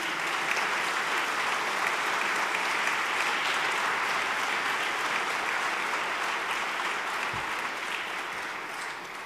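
Dinner audience at a fundraising gala applauding honoured guest Serge Klarsfeld, a steady, dense wash of many hands clapping for about nine seconds, tapering slightly at the end, with no voices over it.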